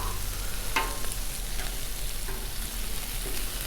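Kebab skewers of meat and vegetables sizzling on a Blackstone griddle just after being flipped, a soft continuous sizzle with a few light scraping clicks, fairly quiet and with no talking.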